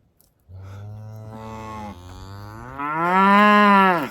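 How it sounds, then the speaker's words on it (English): A cow on a winter homestead gives a long, loud, close moo that swells higher and stronger toward the end, with cattle waiting to be fed and no talking. "You can see the cows behind me are pretty eager."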